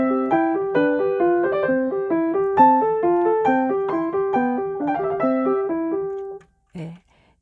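A piano plays a Mozart sonata without breath-linked phrasing: a quick, even run of clear notes in a steady pattern, close and moderately loud, ending abruptly, followed by a brief voice.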